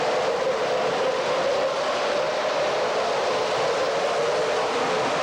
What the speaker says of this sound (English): This is a little nickel plate road freight train.